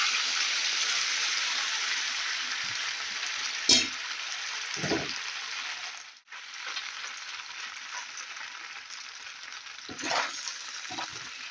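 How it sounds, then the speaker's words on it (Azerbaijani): Drained macaroni sizzling in a spoonful of oil in a thick pan, a steady bright hiss broken by a few sharp stirring clatters and one brief dip. "Süzdüyümüz makaronları tavaya əlavə edirik."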